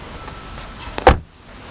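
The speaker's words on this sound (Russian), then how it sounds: "Смотрите, как двери закрываются, это же идеально." A single heavy BMW 3 Series E46 car door thuds shut, preceded by a short mechanical whir and followed by quiet.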